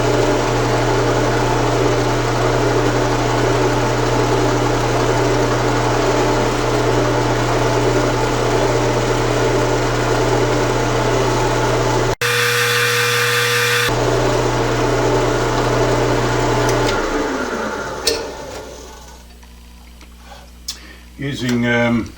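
Power drill boring into metal for a lathe brake build, a steady loud motor whine and grind that runs continuously, cuts out briefly, then resumes and tails off into clunks and handling noises.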